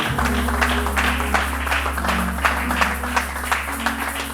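A church congregation claps together in a sustained, even round of applause with a rhythmic patter, set against a steady low hum, and no voices rise above it.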